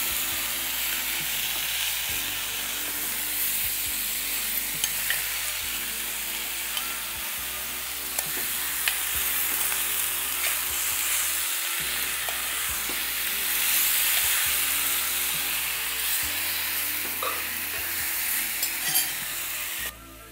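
Chicken and potato pieces frying in masala make a loud, continuous sizzle and hiss up close, with repeated scraping and stirring knocks from a utensil throughout, no talking.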